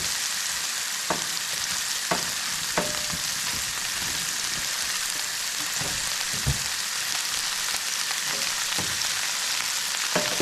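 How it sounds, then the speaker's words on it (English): Brussels sprouts fry in a pan, a loud, even crackling sizzle running throughout with scattered sharper pops and spatters, close and without voices. "we're gonna cook this down until it's like charred on one side"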